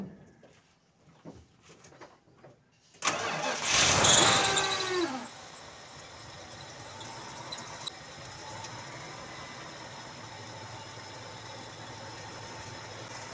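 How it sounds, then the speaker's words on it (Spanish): An old car's engine, just fitted after a motor swap, cranks and catches on the first try with a loud, squealing burst, then settles into a steady, fairly quiet idle that runs on alone. "Pues como vieron, Palomía, arrancó a la primera, ¿no? Sin hacer mucho ruido"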